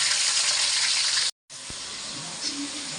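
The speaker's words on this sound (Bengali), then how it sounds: "চিংড়ি মাছগুলি ভাজে নেব।" Shrimp fry in a pan with a steady, close hiss that cuts out for a moment and then resumes.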